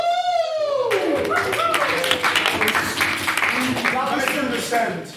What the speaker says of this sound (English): That was the most half-hearted round of applause I've ever heard